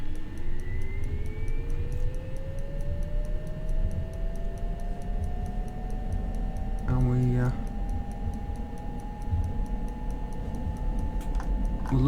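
Simulated turboprop engine of a Cessna 208B Grand Caravan starting up in X-Plane 11, a rising whine spooling steadily upward under a constant cockpit ticking, with a voice speaking briefly over it.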